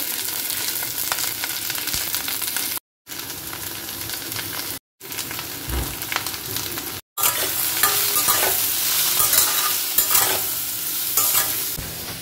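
Garlic, onion, chilli and potato frying in fish oil, a loud, close, continuous sizzle with constant stirring and spatula scraping, interrupted by a few brief silent gaps.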